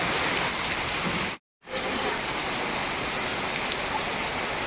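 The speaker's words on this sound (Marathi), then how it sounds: "जबरदस्त पावसाला सुरुवात झालेली आहे अचानक" Sudden heavy unseasonal rain pours down in a dense, steady hiss over the Konkan mango orchard, broken only by a brief cut to silence.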